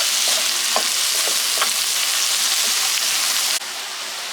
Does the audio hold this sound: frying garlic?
yes